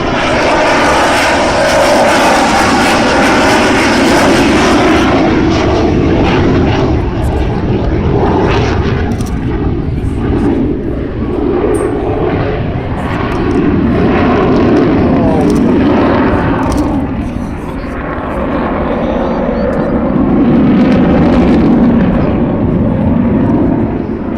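The Avro Vulcan XH558 jet bomber flies past at Farnborough Airshow, a loud sustained engine roar with a broad rumbling wash that swells and shifts as the aircraft passes, filling the whole stretch with no quiet gaps.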